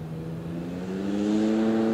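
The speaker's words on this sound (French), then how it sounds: "il met les gaz de nouveau" An ultralight (ULM) aircraft engine at Cambaie airfield on Réunion throttles up, its steady droning tone climbing gradually in pitch and swelling louder over two seconds with no voices.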